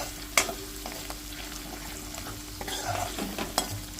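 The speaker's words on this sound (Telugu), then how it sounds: "ఇవి బాగా కలుపుకోవాలి, మంచి వేగాలి ఆయిల్లో, పచ్చివాసన అంత పోయే వరకు" Spices with a pinch of turmeric frying in oil for a potato dish, a soft steady sizzle with occasional stirring scrapes and a few sharp clinks, fairly quiet and close.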